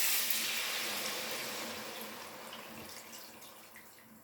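Liquid pours into a pan of browned pork chops with a hissing, splashing rush that starts loud and gradually tapers as the pour eases off.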